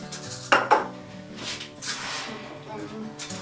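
Two metal spoons clink and scrape against a bowl while scooping chocolate cake mix into paper cupcake cases, a couple of sharp knocks followed by softer scraping, with a person talking over it.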